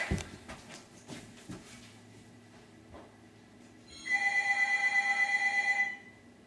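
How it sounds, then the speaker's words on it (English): A telephone rings in the Animal Crossing: City Folk video game, a run of quick, evenly pulsed electronic trills that starts after some quieter game sounds and soft footsteps, then stops. "Looks like I got a phone call"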